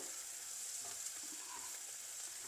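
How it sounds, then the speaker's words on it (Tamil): Steady, dense sizzling of bitter melon slices frying in hot oil, a continuous crackle with faint stirring, close and fairly quiet, no voices. "பாவக்காய் பொறிஞ்சிடுது முக்கால்வாசி பொறிஞ்சிடுது"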